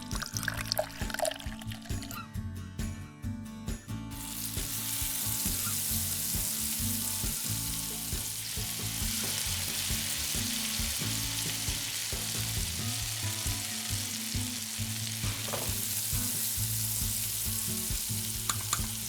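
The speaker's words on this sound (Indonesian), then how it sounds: "Tuangkan minyak." Oil pours into a pan with a short splash, then a steady loud sizzle of frying carries on, with soft stirring scrapes in a small kitchen where eel sushi is being cooked.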